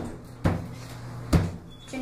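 Door closing during a trailer shoot: two sharp thuds of a door shutting, the first near half a second in and a heavier one about a second later, close and fairly loud with a faint room hum between them.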